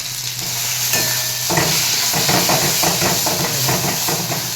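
Bori lentil dumplings fry in hot oil with cumin seeds in a kadai, giving a steady close sizzle with crackling bursts and stirring scrapes that run throughout.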